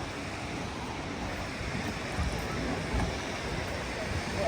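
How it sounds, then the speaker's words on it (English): Waterfall on a hiking trail, heard as a steady, dense rush of falling water that holds at an even level throughout with no break. "show the waterfall"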